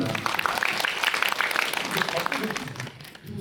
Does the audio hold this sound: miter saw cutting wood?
no